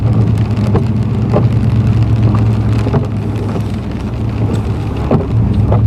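Steady rain pours down, dense and continuous, with occasional louder drops and a low rumble underneath.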